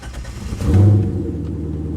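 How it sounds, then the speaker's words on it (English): A Corvette engine, just disassembled and cleaned in the street and primed with fuel, cranks and catches with a swelling low rumble, then settles into a steady, loud idle close by. "Fires right up."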